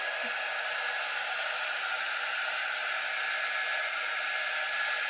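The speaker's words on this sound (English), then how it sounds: "not worried with this dryer because this doesn't get super hot." A hair dryer blows steadily on a low-heat setting, a continuous close-up whoosh of broadband airflow with a faint motor whine, unchanging and uninterrupted from start to finish with no voices.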